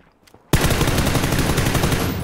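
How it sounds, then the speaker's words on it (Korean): Automatic gunfire in the video game PUBG (Battlegrounds), a sudden loud burst of rapid shots after brief near-silence, sustained rattling fire to the end with no talk. "좀 멀었는데 총소리가?"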